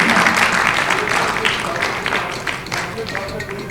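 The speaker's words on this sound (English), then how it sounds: "Give yourselves a big round of applause, my Sikh brethren." A Sikh community gathering at a consulate celebration breaks into a big round of applause, loud at first and gradually thinning, with a voice speaking over the clapping.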